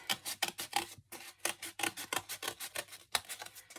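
Scissors cut around a shape drawn on paper for a homemade Valentine's Day paper hat, producing a steady run of close, crisp snips in quick rhythmic succession with no talking.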